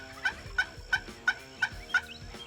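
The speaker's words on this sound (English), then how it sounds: "It wasn't long before I had a couple gobblers headed my way." Six evenly spaced wild turkey gobbles from gobblers in spring, each a short rattling burst in quick succession, moderately loud over a faint background.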